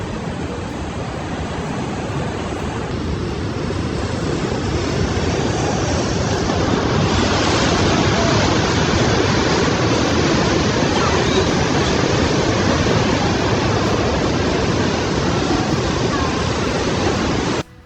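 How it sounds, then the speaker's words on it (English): Heavy ocean waves crash on the California coast during storm surge and flooding, a loud continuous roar of surf and rushing water that fills the whole stretch. "showed the waves crashing on the coast"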